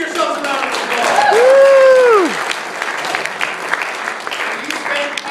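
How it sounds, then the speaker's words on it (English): A school assembly crowd breaks into loud applause, with one voice letting out a rising and falling cheer over the dense clapping before it settles to a steadier patter. "Give yourselves a round of applause."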